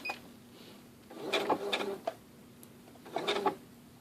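A sewing machine stitches a securing knot while chain piecing quilt blocks. Two short, close bursts of rapid mechanical whirring are separated by a quieter pause, over a faint steady hum.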